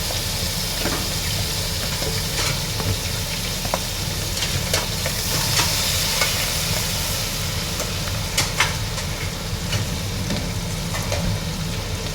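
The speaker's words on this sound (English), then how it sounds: "First we must put the chilies in the oil." Chilies sizzle and fry steadily in hot oil for a chanagalluu dish, with occasional stirring scrapes and spatter crackles over a continuous close-up hiss, and no talk.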